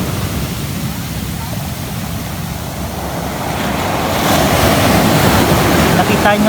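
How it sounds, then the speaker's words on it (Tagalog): Strong ocean waves wash onto a shore after rain, a loud rushing roar with wind buffeting the microphone, swelling noticeably louder partway through and staying heavy to the end. "Pero malakas pa rin po yung alon mga ka-choy."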